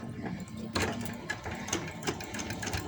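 A sewing machine sews a single row of stitches along a folded 1.25-inch hem on a flexible-fabric palazzo pant. The motor hums steadily and close for about three seconds, with light mechanical ticks through the run.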